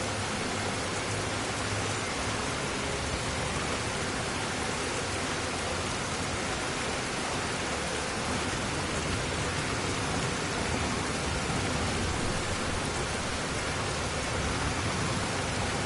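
Heavy, unbroken rain in the Dynasty Warriors 9 video game, a loud, steady hiss of downpour holding at one level throughout with no talk or other sounds standing out.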